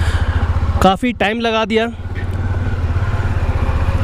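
Rented motorcycles idle and run steadily on a roadside in Ladakh on the Leh to Hanle route, a continuous low engine drone that sits under a brief burst of nearby talk, then carries on alone.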